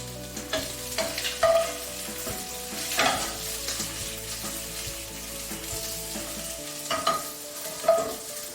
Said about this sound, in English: You can hear those shrimp cooking.